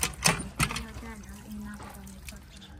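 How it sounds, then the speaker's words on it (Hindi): Water gushes steadily from a newly installed hand pump in a village, a close, continuous splashing flow with a few louder knocks and splashes at the start, while people speak over it. "अम्मा जी का नल पानी दे रहा है ये देखिए फुल पानी दे रहा है"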